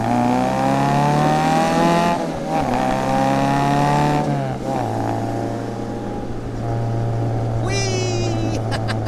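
A 1960 Austin-Healey Sprite Bugeye sports car engine drones loudly from inside the car, holding a steady note with a few shifts in pitch as it changes gear. Someone speaks briefly over it.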